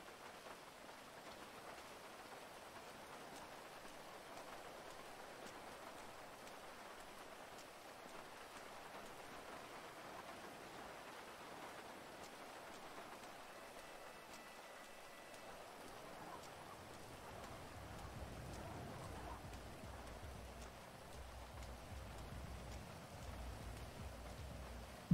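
Steady rain in the Unity-Life roleplay video game, a continuous broadband patter that thickens with a deeper rumble in the last several seconds, with no talking over it.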